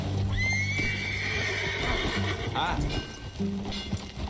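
A horse in Red Dead Redemption 2 lets out a long, shrill whinny over clopping hooves, with music and a voice in the background.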